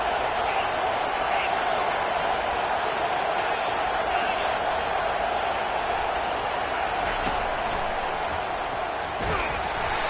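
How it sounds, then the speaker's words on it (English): Steady roar of a football stadium crowd cheering as the home defense faces a third down, a dense continuous wall of noise held at the same loudness throughout. "Decibels rising as the crowd gets behind this defense on third down."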